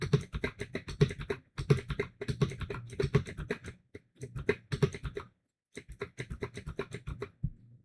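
Rapid bursts of keystrokes on a computer keyboard while a word is typed several times over, with short pauses between runs of clicks; soft, close and with no talking.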